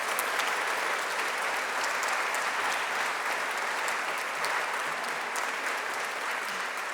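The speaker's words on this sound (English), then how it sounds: "Let's give them all another big round of applause." An audience at a healthy cities summit applauds winners, dense sustained clapping that holds steady and loud for the whole stretch.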